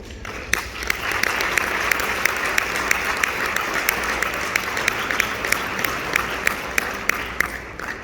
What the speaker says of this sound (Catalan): El millor aplaudiment per a ells.